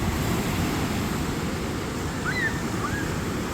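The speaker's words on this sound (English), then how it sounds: "The waves are crazy." Ocean waves at Miramar Beach near Half Moon Bay, a loud continuous roar of surf mixed with wind buffeting the microphone, a few faint bird calls near the end.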